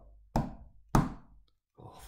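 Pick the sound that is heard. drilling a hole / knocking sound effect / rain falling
knocking sound effect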